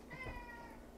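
A pet cat meows faintly in a home kitchen, one drawn-out, slightly wavering call heard alone at low level against quiet room noise.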